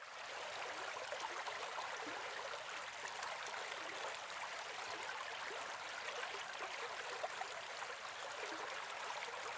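A babbling brook flows steadily and evenly, its soft broadband water rush unbroken and moderately close, with no voices over it.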